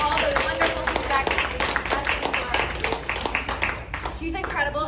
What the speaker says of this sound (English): Round of applause for Barbara and all the wonderful feedback.